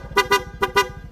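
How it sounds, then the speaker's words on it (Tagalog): A PIAA horn fitted to a Yamaha Mio scooter honks in two quick double bursts, four short bright beeps close up and loud, with a faint engine hum beneath. "pag on, ilaw siya, magiging PIAA na yung busina na merong combo lights"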